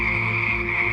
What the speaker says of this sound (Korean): 애굽인들도 예전에 개구리떼를 본 적이 있었지만 이번 같은 재앙은 처음이었어요